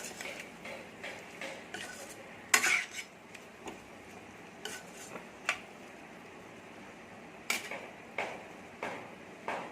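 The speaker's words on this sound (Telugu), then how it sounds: "ఇప్పుడు కరివేపాకు వేద్దాం వేసి ఒకసారి బాగా కలపండి" A spoon stirs curry leaves into chicken gravy in a pan, with sharp metallic clinks and scrapes at irregular moments over a faint, soft sizzle.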